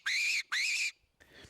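Apex fox predator call whistle blown in two sharp, loud, high-pitched blasts, each rising then holding steady, followed by a fainter scratchy trailing sound.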